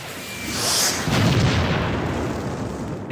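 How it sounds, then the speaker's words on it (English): A bomb explosion sound effect in a home movie: a loud, broad boom that rolls out and sustains as a dense rumbling roar, with no voices over it. "Look out, people! Run! It's a bomb!"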